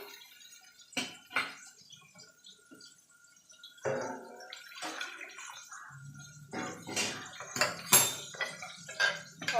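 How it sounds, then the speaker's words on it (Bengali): Water goes into a pressure cooker of masoor dal with fried onions in uneven gurgling bursts and splashes, separated by brief quiet gaps, close and moderately loud. "এবার প্রেশার কুকারের মধ্যে জল দেবো"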